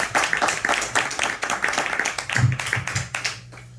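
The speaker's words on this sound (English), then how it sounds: "Give another round of applause for David, y'all" A comedy show audience claps in quick, uneven bursts, fairly close, while a voice begins speaking over the last part as the clapping thins out.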